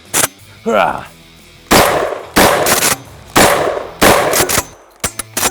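A DP-12 double-barrel pump-action shotgun fires several loud, close blasts with gaps between them. Metallic clacks of the pump action and brief handling clatter come between the shots.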